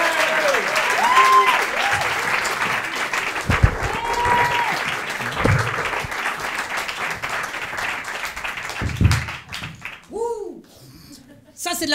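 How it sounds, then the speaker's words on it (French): An audience at a stage show applauds loudly and steadily, then tapers off unevenly toward the end. Whoops and cheers rise through the clapping, and voices cut in as the applause fades. "Je vous demande d'applaudir Jean-Baptiste Mazoyer."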